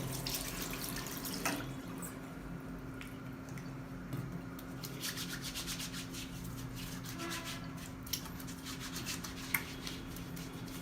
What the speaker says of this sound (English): Do hand wash very properly.